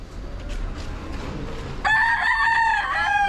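A Sweater Kelso bloodline gamecock crows once, loud and close, its ringing cock-a-doodle-doo cutting in after a few seconds of low background murmur.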